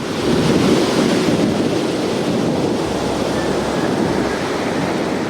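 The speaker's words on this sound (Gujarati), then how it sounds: "દરિયાના મોજા આગળ વધી રહ્યા છે" Rough sea surges against the Saurashtra coast during monsoon, a loud, continuous roar of waves and wind buffeting close to the microphone, with no voices.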